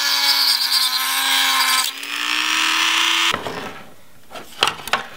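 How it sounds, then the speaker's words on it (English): Mounts on a Jeep XJ side mirror are cut off, half an inch on each side, in a close, loud, sustained cutting whine lasting about three seconds, then sharp handling knocks. "if I can cut that off just a half inch here and here,"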